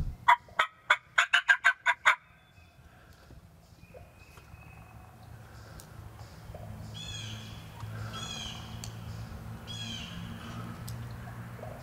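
Wild Tennessee turkey gobblers let out a rapid, rattling gobble burst up close at the start, then fade to quieter background chirps of other birds in the spring woods.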